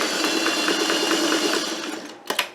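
Sewing machine zigzag stitching a quilt block with raw-edge applique, a loud, close, rapid rhythmic motor hum with regular needle pulses that slows and stops, followed by a couple of clicks.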